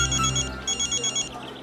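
A telephone ringing indoors in a home, a steady electronic ringtone in repeating bursts, moderately loud and close, with no talk over it.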